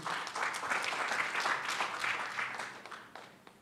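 Audience applause for a speaker at a public consultation meeting, a steady wash of many hands clapping that holds for several seconds before thinning out toward the end.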